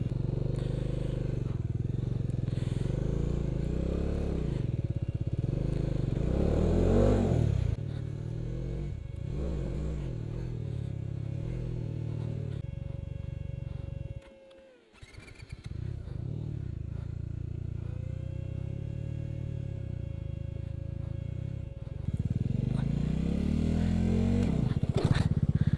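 Motorcycle descending the snowy Sach Pass with its tyre slipping, engine droning and revving at close range in uneven surges, dropping briefly to near quiet midway before the motor picks back up.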